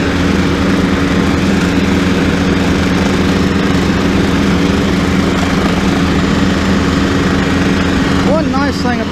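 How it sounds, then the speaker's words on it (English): A WOODS XT172 lawn mower runs steadily while mowing a horse lot, its engine droning loud and constant throughout, and a voice rises briefly over it near the end. "One nice thing about taking the lawnmower around these fences on the inside"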